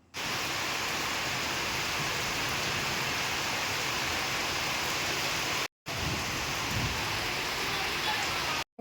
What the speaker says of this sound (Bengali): বাইরে প্রচণ্ড পরিমাণে বৃষ্টি হচ্ছে